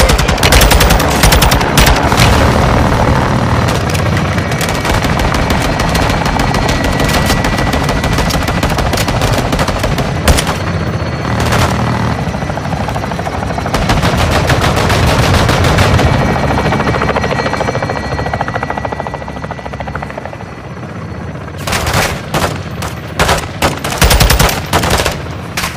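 Helicopter air support in Call of Duty Modern Warfare 2 multiplayer, rotor drone and heavy machine-gun fire roaring loud and continuous, easing briefly before sharp renewed bursts near the end.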